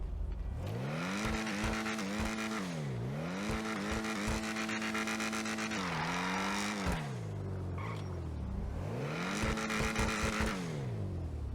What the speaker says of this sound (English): arguably one of the best sounding cars in the game